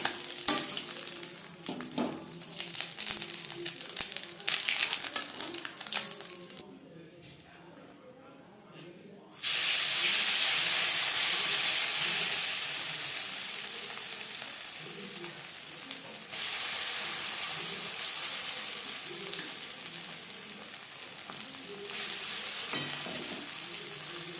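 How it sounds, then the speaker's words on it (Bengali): Small mourola fish deep-frying in hot oil, a loud bubbling, crackling sizzle that drops briefly to quiet before a fresh batch hits the oil and the hiss surges back, continuing steadily with stirring. "পরের ব্যাচের মাছ একইভাবে ভেজে নেব"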